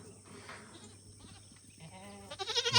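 Goats bleat faintly at a distance, with one louder wavering bleat rising near the end over quiet outdoor background.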